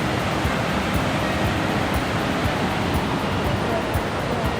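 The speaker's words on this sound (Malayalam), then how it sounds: "വെള്ളച്ചാട്ടത്തിൻ്റെ വെള്ളം ഒഴുകി വരുന്ന കാഴ്ചയാണ് നമ്മൾ ഈ കാണുന്നത്." Lakkam waterfall in Munnar rushes in a constant, dense roar of flowing water, heard up close and unbroken throughout.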